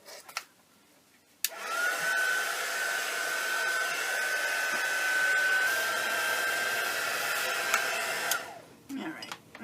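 A hair dryer blows steadily to dry wet paint on an art journal page, a close, constant whooshing drone with a thin whine that runs for about seven seconds before switching off.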